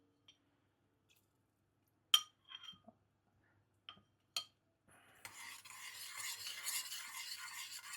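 Cornstarch slurry is stirred into hot teriyaki sauce in a pan: a few sharp clinks of a utensil against the pan, then a steady soft sizzle and bubbling that rises and holds, close and fairly quiet.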